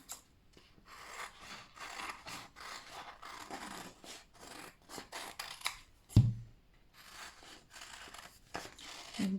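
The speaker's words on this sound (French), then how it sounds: "Et vous pouvez couper grossièrement." Scissors roughly cut around a sticker being fitted to a glass demijohn, a quiet, close run of short snipping and rubbing strokes in quick irregular rhythm.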